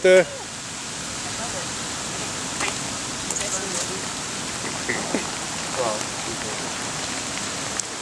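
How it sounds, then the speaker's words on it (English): Steady rain falling outdoors at a church protest in Montreal, a continuous hiss of drops on surfaces with scattered sharper patters, moderately loud and alone after a brief thump at the start. "it's really coming down now. I mean, it's not like a huge downpour, but we got some rain here"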